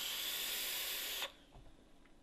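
Vape coil on a Puma Wasp atomizer at 60 watts, 0.33 ohm coils, sizzles and hisses steadily and close up for over a second, then cuts off sharply, leaving faint quiet handling noise.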